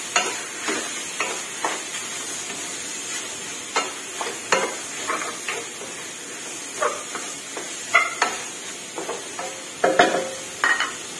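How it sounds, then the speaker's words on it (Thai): Chicken pieces for a winter melon curry are stirred and fried in a pan, giving steady close sizzling broken by frequent scraping and clinking strokes of a utensil. "วนไก่ให้สุกเลยค่ะ"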